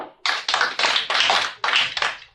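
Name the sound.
a few audience claps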